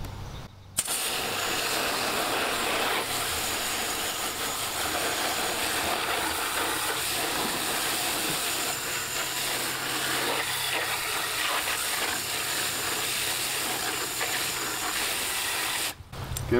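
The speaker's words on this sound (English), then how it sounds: "what I like to do is just go full bore at it with the hose" A garden hose sprays at full force onto a Dietz Junior No. 20 lantern sitting in a dish pan, giving a steady loud rushing hiss that continues almost the whole time, briefly cut at the start and end.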